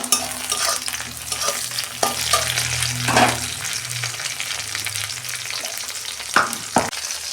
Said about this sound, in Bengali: পেঁয়াজটা আমি লাল লাল করে ভেজে নিয়েছি। লঙ্কা দিচ্ছি আমি 3টে।